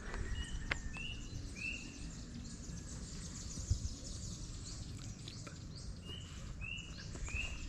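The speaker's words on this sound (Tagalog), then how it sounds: "pakinggan nyo yung mga ibon" Birds singing in Admiral's Farm Park, La Trinidad, Benguet, repeated short, clear whistled notes from several spots at moderate distance, spread over a faint, steady outdoor hiss with no talking.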